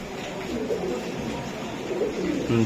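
Low, soft cooing of Giribaz high-flyer racing pigeons repeats steadily over a constant background hum, with faint voices underneath.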